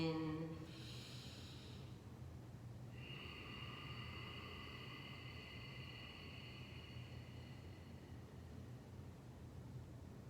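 Slow ujjayi yoga inhale through the nose with a constricted throat, a soft, steady hissing breath that stretches over several seconds, quiet and close, with faint higher tones in the background and no talking.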